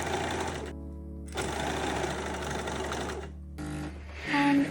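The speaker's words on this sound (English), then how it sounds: "Now serge or stitch these seams together." A serger or sewing machine stitches the seams of a loungewear set, running in a steady mechanical whir with short pauses and restarts, close and fairly quiet.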